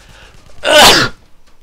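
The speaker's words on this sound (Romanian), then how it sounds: "Mă scuzați, am strănutat." A single loud sneeze from a man, a sharp burst of breath lasting about half a second, close to the microphone with quiet room noise before and after.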